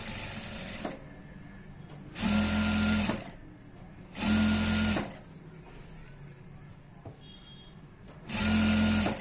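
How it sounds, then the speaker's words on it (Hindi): A sewing machine stitches net fabric for a one-piece dress, running in three or four loud whirring bursts of about a second each, separated by quieter pauses with faint handling sounds. "अब यहां से पूरी हम सिर्फ नेट को सिलाई लगाएंगे।"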